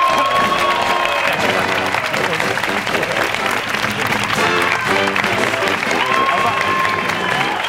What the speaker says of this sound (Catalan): Aplaudiu, aplaudiu, Charlie Reixac